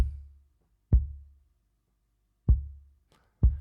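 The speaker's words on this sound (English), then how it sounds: "we got another one on the outside, which gives you the boom" Deep booming kick drum picked up by a microphone outside the drum lands three isolated hits with long low decays after a fading tail, spaced unevenly, close and alone.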